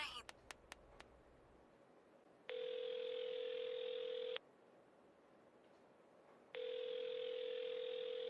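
A phone call goes unanswered, with two long, steady ringback tones separated by silence after a few quick clicks at the start, heard alone without talk.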